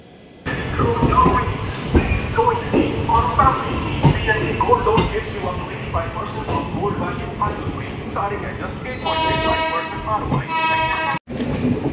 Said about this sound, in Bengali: আমাদের ট্রেন বিজয়ওয়াড়া ছেড়ে বেরিয়ে যাচ্ছে